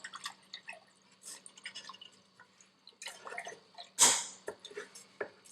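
Rice grains are rinsed with water for Persian rice, giving soft, irregular drips and splashes with one louder slosh midway, close and quiet.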